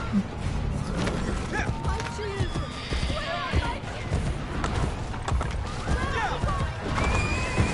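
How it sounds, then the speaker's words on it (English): A horse whinnies and gallops in Assassin's Creed Brotherhood while riding through a villa. Loud neighs ring over a dense rumble of hooves and chaotic game noise throughout. "we're gonna have to ride with our horse all the way through the villa"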